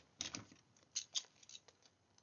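Scissors snip through a paper place card in several quick, crisp cuts, close and fairly quiet, with no talking.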